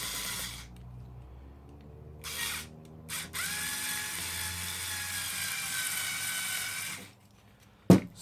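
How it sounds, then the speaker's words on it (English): A screw driven into a plate with a power driver: a whirring buzz runs in a couple of short bursts and then a long steady stretch, ending with a sharp clack, with no speech. "actually putting the screw in"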